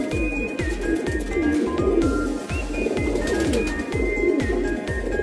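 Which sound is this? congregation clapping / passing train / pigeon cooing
pigeon cooing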